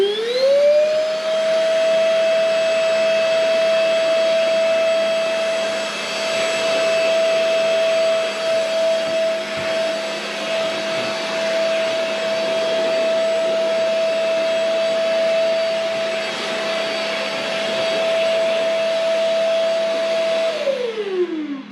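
A shop vacuum switched to blower mode roars steadily and loudly for about twenty seconds, its motor whine spinning up at the start and winding down at the end, with no talking over it.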